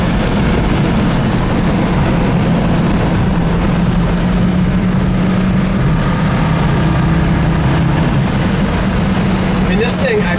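A 1966 Ford Mustang Fastback being driven, its engine giving a loud, steady low rumble blended with broad road and wind noise that continues unchanged throughout.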